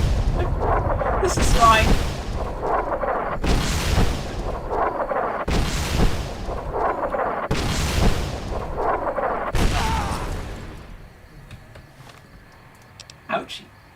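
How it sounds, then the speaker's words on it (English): Heavy gunfire aimed at the player in the video game Fallout New Vegas, five loud booming bursts at roughly regular intervals, followed by a quieter tail with a faint distant shot; a voice speaks briefly between blasts. "Please stop shooting me."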